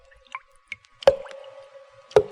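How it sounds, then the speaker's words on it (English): Dripping blood sound effect from the opening of the horror film Black Sunday: a few slow, isolated drops plop into liquid, the last two louder with ringing tails, spaced irregularly in a quiet space. "The sound you hear is dripping blood."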